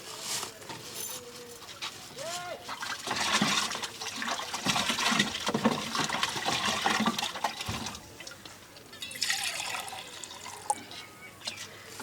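Water is poured from a lota, splashing and gurgling in uneven bursts, with voices in the background.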